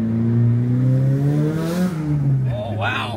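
A Japanese drift car engine revs loudly and close, its steady droning tone climbing and then dropping, before a warbling turbo flutter rises over it at the end.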